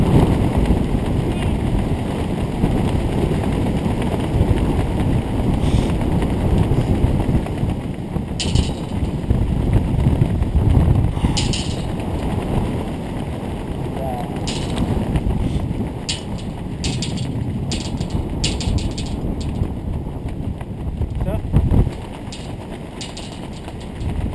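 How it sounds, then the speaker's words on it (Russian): Strong wind roars and buffets the microphone continuously at a 50 m rope-jumping site, with occasional clicks and rattles mixed into the blustery noise. "ветер"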